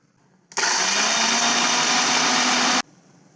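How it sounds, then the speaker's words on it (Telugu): A mixer grinder roars to life abruptly, whirring loudly and steadily for about two seconds before cutting off, as it powders cashews in its jar. "ఇప్పుడు జీడిపప్పుని మిక్సర్ జార్లో వేసుకొని కొంచెం పౌడర్ చేసుకుందాం."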